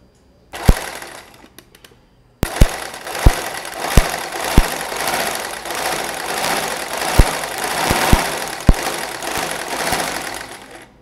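A sewing machine with a buttonhole foot stitches a buttonhole in a fast, even mechanical chatter, close and loud, starting after a brief pause and broken by several sharp clicks along the way.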